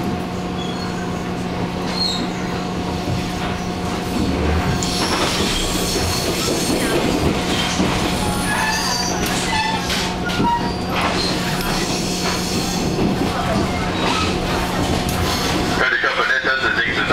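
Local train 2313 rolls into Chiayi station, its terminus, with a loud continuous rumble inside the car, a steady hum, clattering wheels and squeals near the end as it slows, with announcements over the noise.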